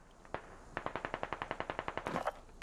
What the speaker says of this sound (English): Man, we're taking shots from the northeast.